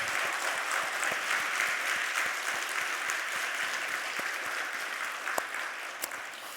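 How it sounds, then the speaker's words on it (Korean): A church congregation at Sunday worship in Gyulhyeon Church breaks into sustained applause, a dense, even wash of many hands clapping that holds steady throughout, moderately distant, with a few louder individual claps near the end. "박수 한번 하도록 하겠습니다"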